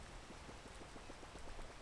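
Steady rain falling in the video game PEAK, a dense, even patter of drops hitting surfaces that fills the whole stretch at low level with no talk over it.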